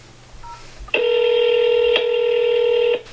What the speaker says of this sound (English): let's go ahead and dial this phone number